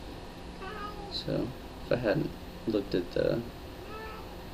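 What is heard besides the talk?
cat meowing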